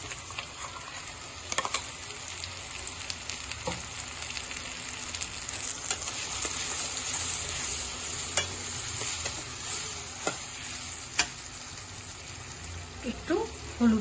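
Onions frying in a pan as poppy seed paste is added, a continuous sizzle with stirring, occasional spoon taps and wet splatters, while a voice speaks quietly at times.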